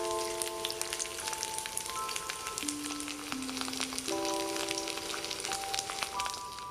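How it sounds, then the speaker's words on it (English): A beef rib sears in a hot pan, a steady crackling sizzle full of fine pops and spits, fairly quiet and continuous, with soft music playing underneath. "we're going to fry our beef rib on both sides to seal the meat"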